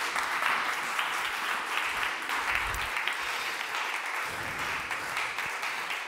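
An audience at a talk event on healthy earth, seas and people applauds in a dense, steady wash of clapping that holds at an even level throughout, with no speech over it.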